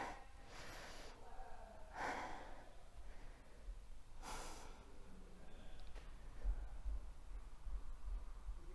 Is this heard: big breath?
yes